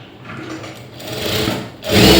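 A sewing machine stitches a seam on a lining blouse in short, steady runs of whirring, with a brief pause before a louder burst at the end.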